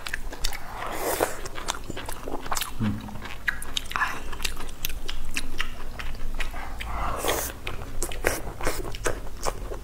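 Pork belly being chewed close to the microphone during mukbang eating, with repeated wet bites and crunchy chewing sounds in irregular bursts and short pauses between them.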